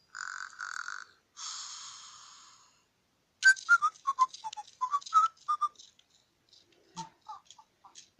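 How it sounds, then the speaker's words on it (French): Fingerlings electronic toy whistling: two long, sustained two-tone whistles, then a rapid series of short chirpy whistles and twitters, with brief pauses between. "Et l'autre en bas siffle."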